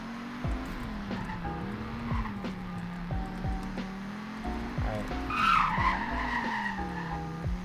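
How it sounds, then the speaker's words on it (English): A grippy car in a Roblox driving game slides with tires skidding and squealing over a steady engine drone, the squeal swelling loudest near the end. "It will slide a bit though, so I'll just put it into auto here."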